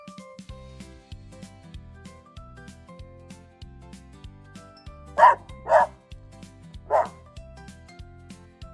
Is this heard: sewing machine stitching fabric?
no